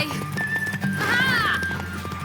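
In The Witcher 3, a mare gives a rising, wavering neigh over steady hoofbeats and game music, the whinny peaking midway before fading.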